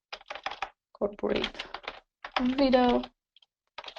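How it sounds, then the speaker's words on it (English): Search-query typing on a computer keyboard, quick bursts of key clicks alternating with a person talking. "And we just type corporate"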